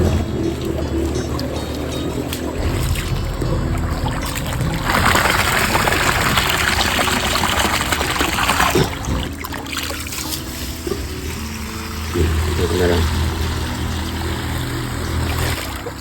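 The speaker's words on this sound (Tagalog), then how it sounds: "Maganda nga itong nabili kong submersible water pump dahil sa mabilis niya lang nahigop ang tubig dito sa loob" A submersible water pump drains water from a small pool beside a stream, giving a steady splashing, trickling flow with a constant motor hum underneath, louder in the middle stretch and continuous throughout.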